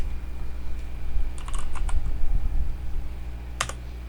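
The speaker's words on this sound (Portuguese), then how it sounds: "Vou digitar o seguinte comando" Keys clatter on a computer keyboard as a command is typed into PowerShell, a short close burst of clicks in the middle, then a single sharper tap near the end over a low steady hum.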